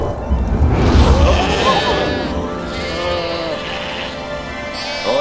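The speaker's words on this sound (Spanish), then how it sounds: "unos pastores que pasaban la noche al raso cuidando ovejas" Sheep bleat repeatedly among a flock kept out overnight in open fields by shepherds, the calls fairly close and overlapping over a low rumbling backdrop, with voices faintly mixed in.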